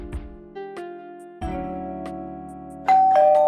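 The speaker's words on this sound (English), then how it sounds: "We hear someone ring the doorbell, and hear Kel get surprised at who's standin" A musical doorbell chime in the video game OMORI rings out in a sequence of clear tones over a soft electronic background, ending with a brighter sustained note.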